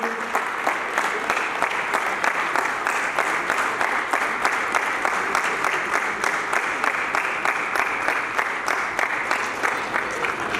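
Loud, rhythmic applause from a crowd at a Lions club charter night celebration, honoring the international president, with the clapping falling into a steady beat that persists throughout.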